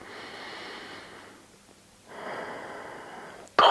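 Slow, deep breaths taken during a lower-back and hip stretching routine, two long airy inhale-exhale swells close to the microphone with a quiet pause between, ending in a short sharp breathy burst.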